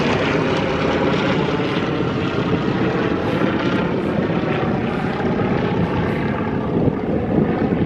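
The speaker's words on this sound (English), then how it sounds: "4 planes flying up and over us." Several propeller airplanes fly low overhead at a pancake breakfast fly-in in Fremont, Michigan, their engines a loud, continuous droning roar that stays steady without a break.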